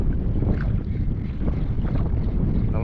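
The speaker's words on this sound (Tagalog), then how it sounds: "Lakas ng hangin." Strong wind blows at a Palawan shore, rumbling constantly and buffeting the microphone in a steady low roar.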